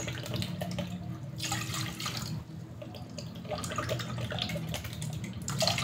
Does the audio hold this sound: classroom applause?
no